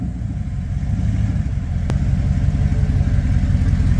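Dodge Dakota R/T pickup truck engine running steadily, a loud low rumble building slightly over four seconds, with one brief sharp click partway through and no talking.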